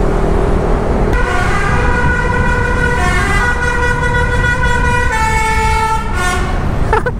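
A loud, close truck horn blares in long sustained tones, changing pitch a few times over a constant rumbling engine, with no talking.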